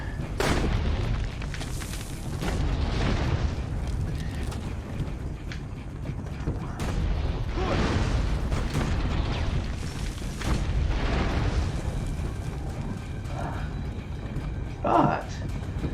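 An old cannon fires in the video game Assassin's Creed: Brotherhood, producing repeated deep booms with rumbling tails at irregular intervals over a continuous loud battle din, with someone talking over it.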